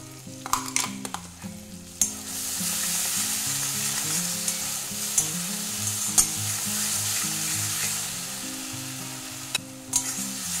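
Ground tomato, chili powder and spices fry in oil in a pan over low heat, giving a continuous hiss and sizzle broken by occasional sharp clinks of a stirring utensil.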